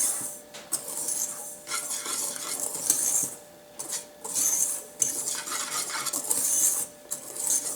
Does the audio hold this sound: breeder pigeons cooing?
no